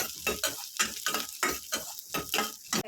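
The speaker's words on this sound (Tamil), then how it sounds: "இப்போ அதே கடாயில் கொஞ்சம் சின்ன வெங்காயம் போட்டுக்கலாம், பூண்டு கொஞ்சம் சேர்த்துக்கலாம், நல்லா வதக்கி விட்டுக்கலாம்." Small onions and garlic sautéing in a kadai, rhythmic stirring scrapes with steady sizzling, about eight strokes in under three seconds, close and clear with no talk.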